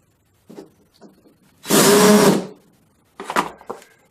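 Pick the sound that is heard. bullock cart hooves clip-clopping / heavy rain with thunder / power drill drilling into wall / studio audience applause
power drill drilling into wall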